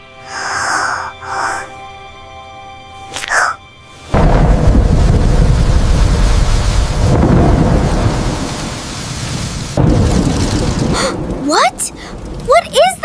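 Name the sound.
thunderstorm with thunder and rain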